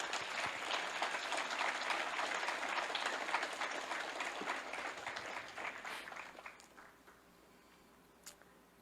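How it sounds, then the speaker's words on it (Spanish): A church congregation applauds in a dense, sustained wash of clapping that gradually thins and fades away toward the end, with a few last scattered claps. "Dale un aplauso al Señor."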